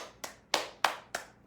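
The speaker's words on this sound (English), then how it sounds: "Clear, bright clapping." Four bright, crisp hand claps ring out alone in an evenly spaced rhythm, close and clear, with silence between each sharp strike.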